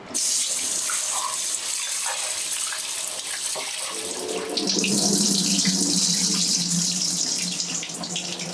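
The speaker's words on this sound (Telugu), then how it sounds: "ఇప్పుడు ఇది వచ్చేసేసి మంచిగా కడిగేసేసి ఒక 3 to 4 hours నానబెట్టాలి" Tap water runs steadily into a bowl of soaked moong dal being washed, a loud continuous splashing stream that swells and brightens midway, with no voices.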